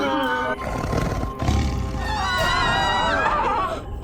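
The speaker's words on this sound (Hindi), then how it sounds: "प्रतीत होता है उस बाघ का आत्मविश्वास बहुत बढ़ गया है, तभी तो इतनी तीव्र ध्वनि से वो दहाड़ रहा है।" A tiger roars loudly as a dramatic sound effect in a Hindi TV series, a long, rough, harmonic roar that rises and falls close up, with voices briefly mixed in.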